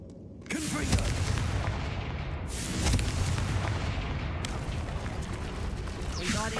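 Confringo fire blast spell from Hogwarts Legacy, a sharp booming burst followed by a rumbling, crackling explosion tail, with further blasts and swooshes through the fight.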